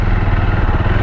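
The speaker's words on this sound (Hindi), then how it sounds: "सो इंजन नॉइस तो इसकी कुछ ऐसी है" A Jawa 42 Bobber motorcycle engine runs close by, a steady low throbbing idle with a rapid even pulse for about a second, with no talk over it.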